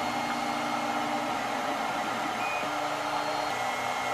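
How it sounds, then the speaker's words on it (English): A Tevo Tarantula 3D printer running a print gives a steady whirring hiss of fans with faint shifting stepper-motor tones underneath, continuous and even throughout, no voices. "we've just started to print on the Tevo"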